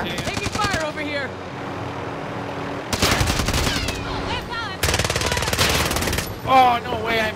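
Rapid automatic gunfire in a first-person shooter, with loud bursts of fast shots separated by quieter stretches, distant pops and brief clipped voices between the volleys.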